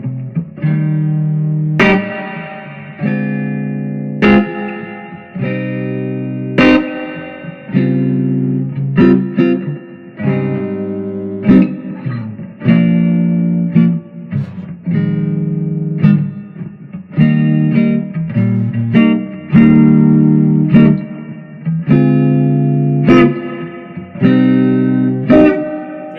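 Steel guitar played through a Shobud amp on the neck pickup with reverb, loud sustained chords and slides ringing out in repeated phrases, each swell decaying into a lush wash of reverb tail.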